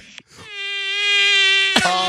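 Squeaky fart noise from a soundboard, a single sustained high-pitched whining squeal lasting over a second, loud and close, framed by brief sputters at either end, without talking.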